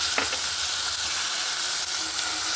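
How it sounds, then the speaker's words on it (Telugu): Green chillies frying in hot oil give a steady, close, broadband sizzle with a brief sharper crackle near the start, and no voices. "నూనె కాగిపోయిన తర్వాత పచ్చిమిరపకాయలు వేయాలి"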